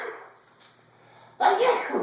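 A single sharp sneeze bursts out after a short quiet stretch, close and fairly loud.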